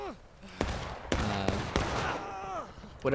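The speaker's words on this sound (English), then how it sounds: "I just know a general direction and I'm firing." Musket gunfire in the Civil War video game War of Rights: several sharp, separate shots near and far over about three seconds, with someone talking beneath them.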